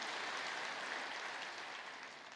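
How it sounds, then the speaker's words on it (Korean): A church congregation gives a choir a warm round of applause after its hymn, in a distant and fairly faint wash of continuous clapping that slowly fades. "귀한 찬양으로 은혜를 주신 배단위 찬양대에게 뜨거운 감사의 박수 한번 주시기 바랍니다"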